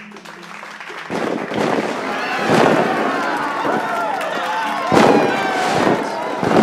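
A fireworks sound effect plays in a roleplay fantasy setting: several loud bangs and crackling bursts with rising whistles, repeating over a few seconds and mixed with voices.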